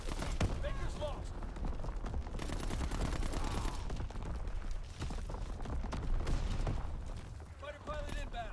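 Rapid bursts of aircraft strafing gunfire sweep across a war video game battlefield, dense and continuous over several seconds and mixed with explosions and radio voice chatter.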